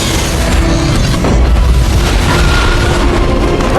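A violent explosion tears through an underground monster lair, a loud, sustained, booming roar with heavy low rumble that fills the whole stretch without letup.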